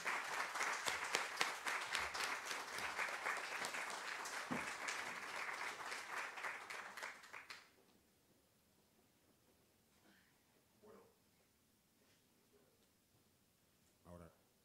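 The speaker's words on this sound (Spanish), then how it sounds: "Vamos a darle un caluroso aplauso a nuestro invitado, José María Olmo." An audience at a historical-novel week event in Cartagena gives a warm round of applause for a guest author, dense steady clapping that stops abruptly partway through, followed by near silence with faint rustles and a few small knocks.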